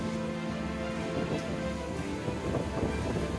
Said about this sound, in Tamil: காற்று பயங்கரமாக அடிச்சிட்டு இருக்கு